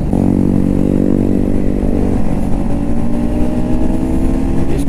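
A KTM Duke 390 motorcycle engine pulls hard and loud under acceleration while riding, a steady close rumble with rising revs and gear changes, continuous throughout with no voices.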